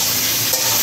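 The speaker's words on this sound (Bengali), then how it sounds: "মাছ ভাজা হয়ে গেছে দেখতে পাচ্ছি" Fish sizzles in hot oil in a pan in a rural Bengali kitchen. The frying makes a constant, close hiss for a brief moment, with no talking.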